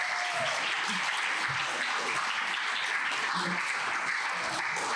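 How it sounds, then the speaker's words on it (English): Dense, sustained applause from an evening science café audience thanking a guest lecturer, a loud even wash of many hands clapping throughout with no voices standing out. "So one more round of applause for Dr."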